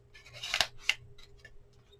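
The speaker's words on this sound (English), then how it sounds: "I'm going to trim as close as I can with my big scissors" Fiskars Amplify scissors trim paper in two or three quick, crisp snips, close and fairly quiet, followed by a couple of fainter cuts.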